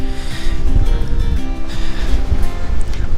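Strong wind buffets the microphone in a steady, roaring rush on an outdoor stone stairway climb at Ollantaytambo, Peru.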